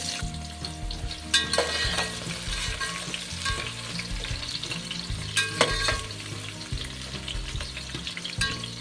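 Bay leaves and onions sizzle in hot oil in a large cooking pot with whole spices, a steady crackling fry broken by occasional stirring clanks and scrapes.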